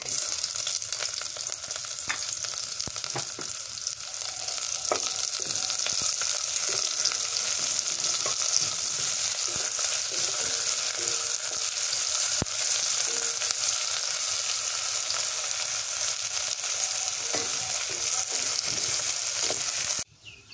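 Cumin paste and coriander powder fry in a pan with a steady, loud hiss and sizzle, broken by faint stirring scrapes, continuing without talk until a quiet moment at the very end.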